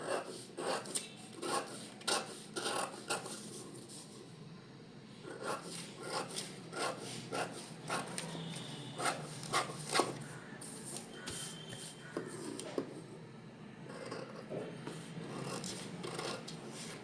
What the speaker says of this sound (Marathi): आता कट करून घ्यायचं.